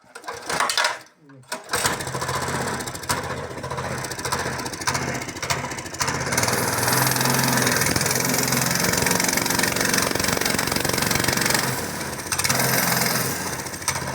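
A homemade mini tractor's small engine runs steadily and loudly while towing a car, a dense mechanical drone holding through most of the stretch after a brief dip near the start, with voices speaking over it.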